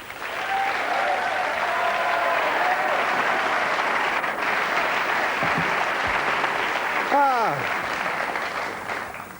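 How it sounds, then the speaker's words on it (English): A studio audience at a 1991 Channel 4 comedy show applauds steadily and loudly for Wally and Frank, a dense, even wash of many hands with a few whistles and voices rising briefly over it. "a round of applause might be as well"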